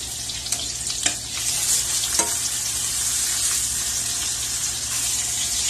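Thick pieces of ahi tuna searing in a hot pan give a steady, close hiss of sizzling, with a few light taps and pops in the first seconds and no talking.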